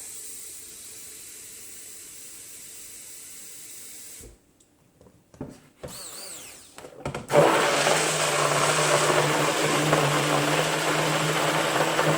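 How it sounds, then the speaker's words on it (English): Quiet hum gives way to brief clatter, then a strong tap begins running, water rushing steadily and loudly into a container for several seconds. "I'm going to fill this up with a significant amount of water."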